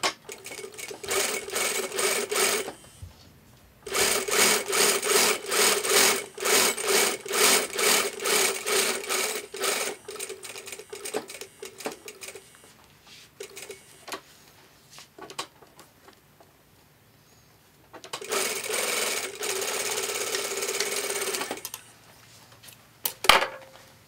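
A sewing machine stitches fabric in three long, loud runs of fast even needle strokes, separated by quieter stretches of light clicks and handling as the needle pivots at corners.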